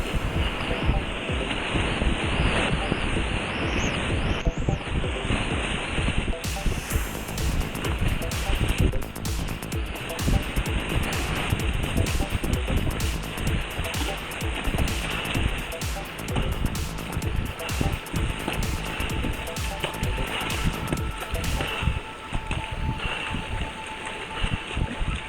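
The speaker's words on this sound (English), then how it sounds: "This is the biggest, most spectacular rapid on this race course, on the gorge." Whitewater rapids roar through a river gorge during a paddling race, a loud, continuous rushing wash of churning water with gusty wind buffeting close up, steady from start to finish.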